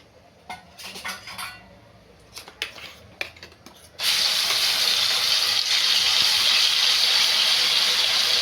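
A spoon clinks against a pan a few times before ground spice paste for a sprouted moth bean curry drops into hot oil and erupts into a loud, steady, hissing sizzle that continues to the end.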